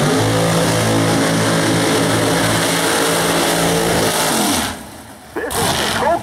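A drag racing car runs solo down the right lane during a qualifying round at Great Lakes Dragaway, a loud, steady buzzing engine drone that cuts off abruptly, followed by a brief burst of noise, with an announcer talking over it.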